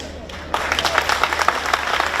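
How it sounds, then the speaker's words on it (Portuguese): Applause breaks out from a church congregation, a dense burst of many hands clapping that starts abruptly and continues steadily at moderate loudness. "Aplauda mais."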